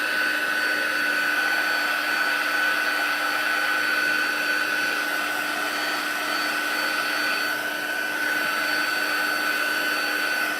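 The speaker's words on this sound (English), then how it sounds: "I've got my heat tool. I'm going to turn all the way to 2. That's the hottest setting." A heat tool blows hot air on its hottest setting to dry paper. It gives a steady, loud whirring hiss with a constant motor whine that runs unbroken throughout.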